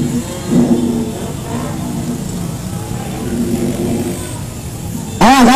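A command vehicle reversing at a protest, its mid-pitched engine idling and revving softly under crowd noise and a voice, with a sharp tonal burst at the end.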